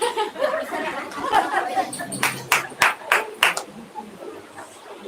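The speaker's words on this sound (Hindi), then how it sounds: "इतना तो ताली मेरे को कभी नहीं मिला था।" An audience, including women, claps at a Christian gathering in Varanasi: a short burst of sharp, scattered handclaps stands out over background chatter and light laughter.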